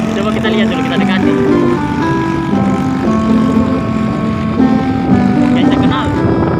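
A motorcycle carrying a two-door refrigerator on a road, with a loud steady engine drone and heavy wind rush running throughout, close and continuous.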